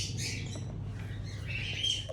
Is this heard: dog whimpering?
no